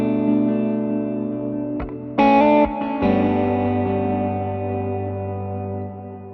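An electric guitar plays sustained chords through a Line 6 patch matched to a 100 watt Marshall Plexi Super Lead set for an ambient sound. The notes ring out with long reverb and echo tails, and a brighter strum cuts in midway. It is moderately loud and no one talks.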